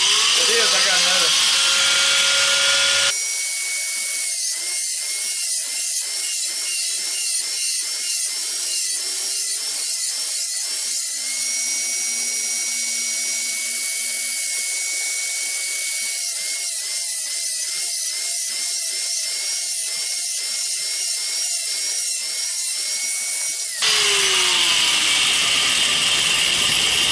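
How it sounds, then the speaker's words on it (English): A homemade electric fish scaler, a motor-driven burr tool, whines steadily at a high pitch with a dense rattling, buzzing texture for about twenty seconds, loud and close, starting and stopping abruptly. "That's a fish scaler by PawPaw."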